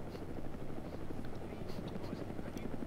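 A helicopter flying in the video game Arma 3, a steady loud rotor chop and engine whine throughout, with talking mixed in over it.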